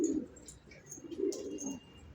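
Soft, low pigeon coos roll on in overlapping waves inside a coop, with a few faint chirps and rustles in the background.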